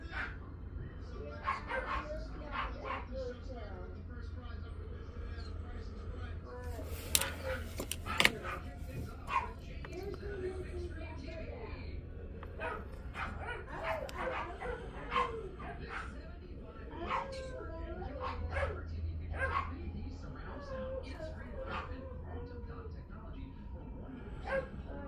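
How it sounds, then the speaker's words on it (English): Small dogs yap and bark in repeated bursts, some whimpering and whining mixed in, fairly close and loud throughout, with someone talking over them. "I think you can hear my dogs yapping."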